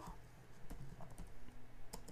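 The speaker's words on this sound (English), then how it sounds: "I'm typing these out, so don't worry if you don't remember them." Keys clatter on a computer keyboard in a short burst of close, steady typing, with scattered clicks and taps and no voices.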